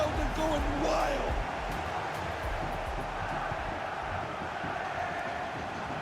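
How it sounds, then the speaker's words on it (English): Stadium crowd roaring steadily after a goal in the football video game FC25, a broad loud wash of noise that swells at first then holds at a constant level throughout. "Just listen to the crowd. They're going wild."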